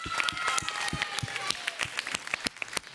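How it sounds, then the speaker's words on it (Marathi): An audience at a televised children's dance show breaks into applause after a performance, with dense clapping at moderate volume and a voice speaking over it. "सगळ्यांनी जोरदार टाळी वाजवलं पाहिजे"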